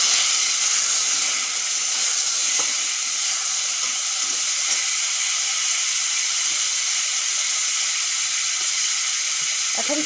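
Raw mango pieces drop into hot mustard oil with three dried red chillies and bay leaves for a tangy chutney, giving a steady, loud sizzling hiss with faint scattered crackles throughout.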